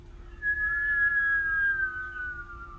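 A steady whistled exhale during kundalini breathing, a thin pure tone held for about two seconds and slowly falling in pitch, close and quiet over a low background hum.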